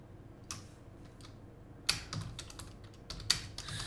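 Fingers type on a computer keyboard, quiet scattered clicks in short bursts with brief pauses between them, close and alone.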